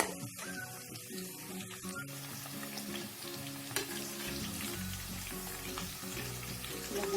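Cauliflower 65 coated with ragi flour fries in hot oil, giving a steady, close crackling sizzle with occasional stirring clinks and no talking.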